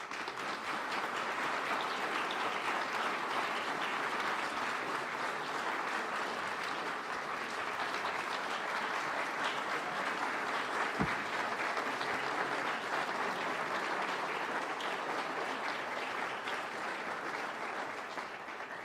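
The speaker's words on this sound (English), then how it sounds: "it was not in my notes that they were going to stand and applaud for you" Audience rising to its feet to applaud a state governor at a public update event, sustained dense clapping from a large crowd holding steady for the whole stretch, with no talk.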